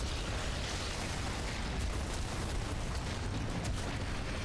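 Explosions in the video game Gears of War Ultimate Edition, a dense, continuous rumbling barrage with deep booms and scattered bursts, loud and sustained, no talking.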